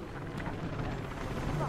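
Helicopter in the video game Mirror's Edge Catalyst, a steady rumbling rotor drone with broadband wash, heard under voices speaking French.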